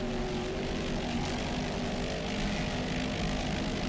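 A 40-foot Fountain racing powerboat with Kurtz Marine inboard engines roars around a turn at a championship race, a steady, moderately distant engine drone with a faint tonal hum running unbroken throughout.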